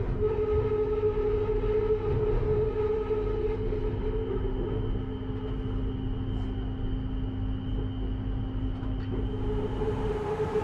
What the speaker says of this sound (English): It's a well-known fact that trains do not like going round corners.